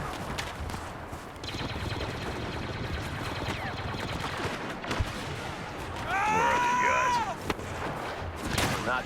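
Blaster gunfire and explosions in the video game Star Wars Battlefront, a steady, noisy battle din with scattered sharp shots, some whining sweeps and a heavy burst near the end.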